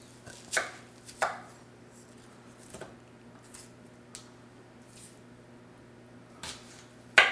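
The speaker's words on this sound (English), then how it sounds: "the first thing you're going to do is quarter your onions and your lemons" A knife chops through quartered onions and lemons on a cutting board, with a few sharp, separate thunks spaced irregularly and a faint steady hum between them.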